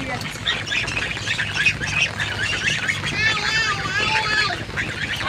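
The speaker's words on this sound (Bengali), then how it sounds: "হাঁসগুলো একটু ছেড়ে দেয়" Ducks squawk in a steady stream as they are let out one by one in rain by a river, a busy chorus of calls over rain-like hiss, close and loud throughout.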